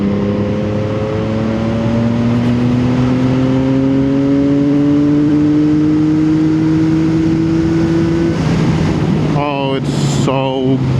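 A CFMOTO 675SS three-cylinder motorcycle pulls in fifth gear, its engine note rising steadily as it accelerates, then someone speaks near the end over the running engine.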